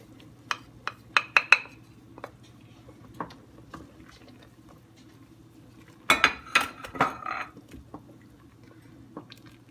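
Spices being added to a pot of vegetarian lentil soup, with scattered clinks of a spoon against metal and glass in two brief bursts over a faint steady kitchen hum.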